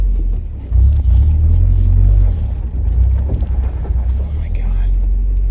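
A Toyota 4Runner engine idling roughly and revving, a loud, close, steady low rumble that surges and dips unevenly throughout, with wind buffeting and a voice in the cabin.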